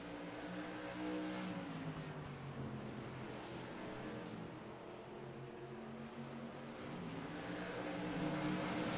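SK modified race cars lap South Boston Speedway in a sim racing game, several engines roaring and droning continuously, rising and falling as the cars pass close by.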